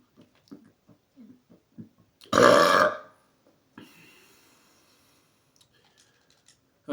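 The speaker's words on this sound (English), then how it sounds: "it was that lazy type of burp where you just release everything and it's just a big old exhale" A single long, lazy burp on New Year's Eve, a loud, stout exhale lasting under a second, set against quiet clicks of keyboard typing before and after.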